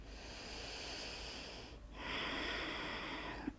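A person takes slow, deep breaths during a gentle movement practice: one long airy inhale, a brief pause, then a fuller, louder exhale, close and with no talking.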